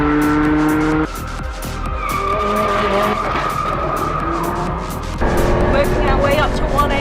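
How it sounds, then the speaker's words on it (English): Lamborghini sliding on a race track at close to 200 km/h, tires screaming in a loud, sustained squeal over a roaring engine, with an abrupt shift in tone partway through. "Listen to that scream of the tires."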